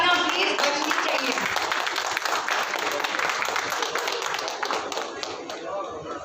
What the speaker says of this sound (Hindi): जोरदार तालियां प्लीज बजनी चाहिए।